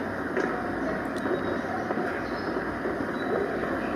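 A metro rail train arrives at an underground station, producing a steady, dense rumbling roar that fills the space without pause and carries no clear talk.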